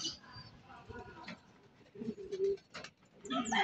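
Racing pigeons coo at the loft in soft, repeated throaty murmurs, close by and fairly faint, mixed with rustling and some talk.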